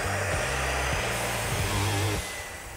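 A power saw cuts through 2x6 lumber for a canoe rack, a loud continuous whining buzz with pitch shifts as the blade bites, then fading as the cut ends.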